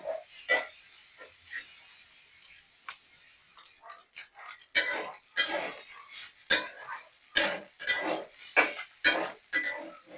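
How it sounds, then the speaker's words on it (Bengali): A spatula scrapes and stirs flaked lati fish with turmeric and green chilies in a cooking pan, giving a series of close, sharp scraping strokes. The strokes come sparse at first, then fall into a quicker, regular rhythm over a faint background. "এখন শুধু নাড়তে হবে।"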